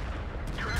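A single sharp cannon blast from a T29 heavy tank in World of Tanks cracks out near the end, loud and abrupt over the game's background noise.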